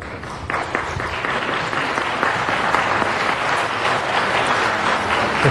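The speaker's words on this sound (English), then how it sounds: "You can applaud for yourselves." Loud, close applause fills a city council chamber as members of the LA Conservation Corps are honored, a thick crackle of many clapping hands that builds slightly and stays strong throughout.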